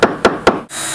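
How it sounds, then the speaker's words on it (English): Three sharp, evenly spaced taps of a screwdriver chipping material from around an electrical receptacle on an Ocean boat, close and crisp, followed abruptly by a steady high hiss. "See, just nice, gentle little taps."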